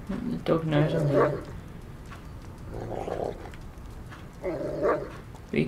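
A dog in the stealth game Thief barks in three short bursts spaced a couple of seconds apart, moderately close, over a low ambient game background.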